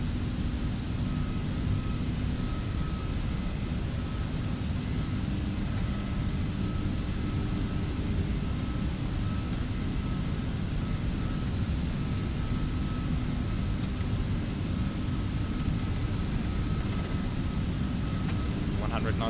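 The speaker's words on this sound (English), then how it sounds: "our takeoff roll. Let's go." Simulated engine roar of an Aerosoft A330 during the takeoff roll in the Prepar3D flight simulator, a dense, steady broadband rumble with a faint whine, loud and unbroken throughout.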